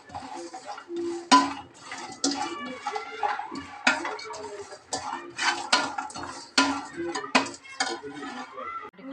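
Dry turmeric root being roasted in a pan, with repeated metallic scraping and clinking of a utensil stirring against the pan in an irregular rhythm, close and moderately loud, with no talk.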